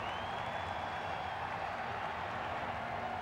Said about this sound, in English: Crowd trying to urge Tavarez on here